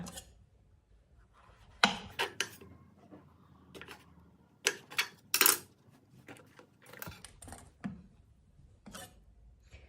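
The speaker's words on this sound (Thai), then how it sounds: "เราก็จะมาหั่นเห็ดฟางค่ะ" A knife chops straw mushrooms on a cutting board, giving sharp, scattered taps in small clusters with quiet gaps between them, close and fairly faint in a quiet kitchen.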